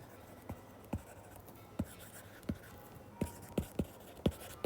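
Hand-written accounting entries go down with a pen on paper: a quiet, steady scratching punctuated by a series of short, sharp strokes and taps, close by, with no talking.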